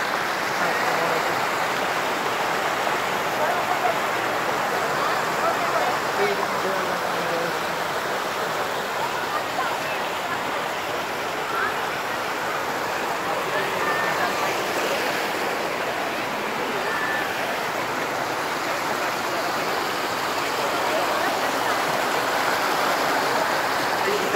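A mountain stream in Kalam rushes steadily over rocks, a loud, continuous broadband wash of flowing water that fills the whole stretch with little variation.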